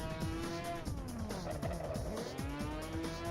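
A racing car's engine revs in a video game, R Racing Evolution, with rising and falling engine tones that shift through gears alongside tyre squeal, loud and continuous, close up and with no talk.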